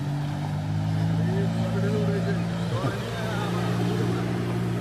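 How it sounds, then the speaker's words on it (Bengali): A speedboat engine drones steadily on the open water at Dumbur, a low, even motor hum that persists throughout, with people talking over it. "Speed boat."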